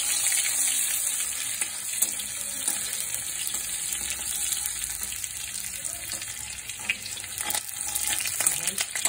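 Chopped garlic fries with nigella seeds in a pan, a steady bright sizzle running throughout at moderate loudness, with occasional faint utensil scrapes and no talking.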